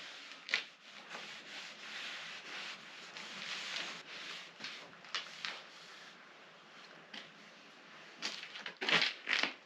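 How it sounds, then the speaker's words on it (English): A product being rubbed in by hand, with steady close-up rubbing and smearing strokes, some broad and soft, others sharper brushes and scrapes, carrying on throughout with no talk. "Once it's applied, just got to rub it in."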